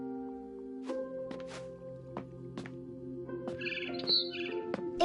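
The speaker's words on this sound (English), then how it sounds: "Then I heard chirping outside my window." A barn swallow chirps outside a window in the video game What Remains of Edith Finch, with several short bright tweets over a steady low musical drone.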